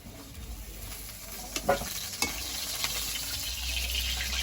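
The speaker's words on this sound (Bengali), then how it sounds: "আলুগুলো সুন্দর রং ধরে ভাজা হয়েছে এবার তুলে নেব" Potatoes fry in oil seasoned with ginger, cumin powder and salt, giving a soft continuous sizzle. A few spatula scrapes are heard, and the hiss swells louder toward the end, close and with no talk.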